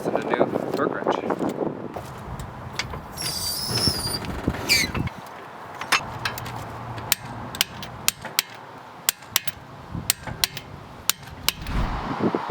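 Lug nuts on a Subaru STI front wheel are tightened with a torque wrench, giving a run of sharp ratcheting clicks and metallic taps at a steady pace, with someone speaking near the start.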